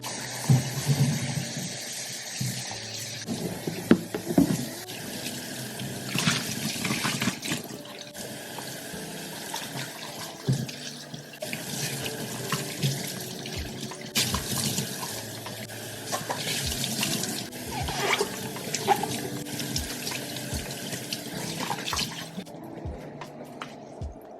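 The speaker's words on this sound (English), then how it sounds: "I'm gonna rinse out this container in Fruition, and then I'm gonna go ahead and rinse out my Nike Air Force 1s." A container and a pair of Nike Air Force 1 shoes rinsed under a running tap, continuous splashing water with shifting gurgles and occasional knocks as items are handled, close and steady throughout.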